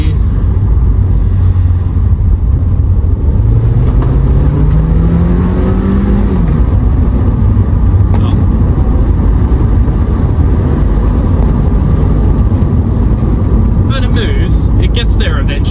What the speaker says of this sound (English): we are in sport mode now, so we'll just drop a couple of gears